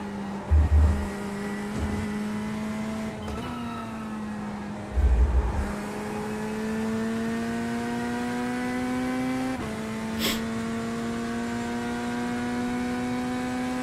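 A GT3 race car engine in iRacing drones steadily, its pitch climbing and dropping through gear shifts, with a few low thumps early on.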